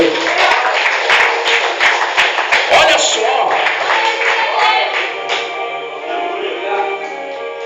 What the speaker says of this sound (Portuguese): bem forte as palmas para Jesus